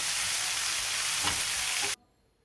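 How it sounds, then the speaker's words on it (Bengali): Chicken pieces frying in a frying pan that is swirled around, a loud, dense, close sizzle lasting about two seconds before cutting off abruptly to near silence. "ফ্রাই প্যানটা ঘুরিয়ে ঘুরিয়ে কিন্তু আমি ভেজে নিচ্ছি"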